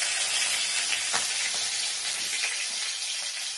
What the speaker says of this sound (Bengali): কালো জিরে দিয়ে দিলাম, এবার কিছু কাঁচা লঙ্কা দিলাম, ফোড়ন